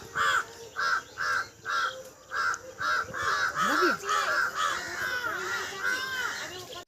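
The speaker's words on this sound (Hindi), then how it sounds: "कौवा इतना ज़्यादा काएँ काएँ कर रहे थे" Crows cawing loudly from trees in a village, a steady run of repeated harsh caws, several birds overlapping near and far, with no talk.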